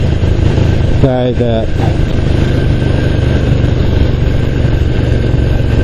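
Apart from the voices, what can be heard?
1974 Ducati 750 GT motorcycle engine running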